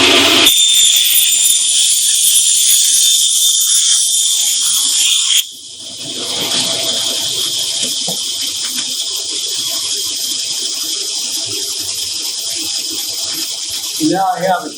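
A bandsaw cuts wood in a workshop while a concrete pouring mold is being made, a loud steady whirring buzz that drops in level midway and keeps running, close by, with a brief burst of noise near the end.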